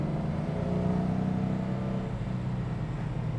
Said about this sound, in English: Great acceleration, of course, in the Hemi.